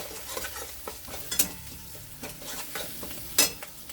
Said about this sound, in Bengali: ভালো করে ভেজে নিই ডিমটা।